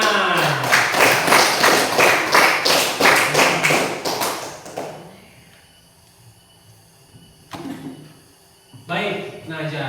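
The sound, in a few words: class clapping hands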